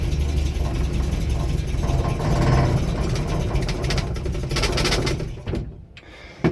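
A Land Rover Series IIa engine runs in reverse with the handbrake on, a close, steady low rumble that strains slightly before cutting out near the end.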